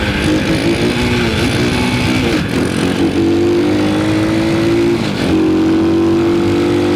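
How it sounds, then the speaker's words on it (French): A car engine roars loudly and steadily close by as it accelerates toward 70 km/h during a series of emergency braking runs, with rising whine and a couple of brief dips. "je me mettrai toujours à 70 et gros freinage"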